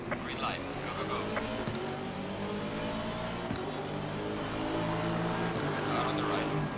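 Aston Martin Vantage V8 GT3 race car engine at Zandvoort in Assetto Corsa Competizione, a steady loud V8 drone with rising revs from a standing start, while someone talks over it.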